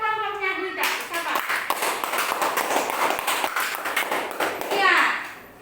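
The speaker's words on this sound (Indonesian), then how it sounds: "Tepuk tangan untuk kelompoknya Duita." A classroom of students claps for a student group after a teacher's brief spoken prompt, giving a brisk, busy patter of many small hands, fairly close, before a voice returns at the end.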